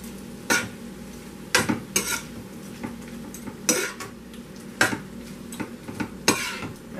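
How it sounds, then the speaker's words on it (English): Shrimps, salmon and vegetables stirred in a pot, with a series of sharp utensil scrapes and clinks at irregular intervals over a low steady background, close and moderately loud. "you're just gonna stir this up"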